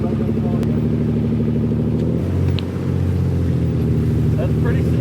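A Ford car's engine idles and is given a little gas while stuck in snow, producing a steady low rumble that rises slightly, with people talking nearby.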